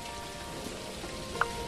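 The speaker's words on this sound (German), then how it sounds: "ich weiß, dass es regnet." Rain falls in the video game Dinkum as a soft, even patter on surfaces, fairly faint and continuous, with one brief sharper drip-like tick near the end.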